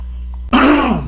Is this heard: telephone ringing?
no